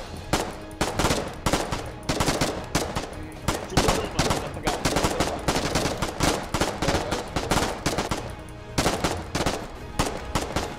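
Dense, continuous automatic gunfire in a Foxhole battle on the Farranac Coast, with rapid overlapping bursts of machine-gun fire and sharp rifle shots filling the whole stretch, loud and close, with no pauses.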